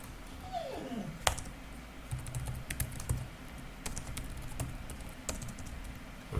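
Someone types on a computer keyboard nearby, a run of irregular crisp key clicks and taps over quiet room noise, with no talk.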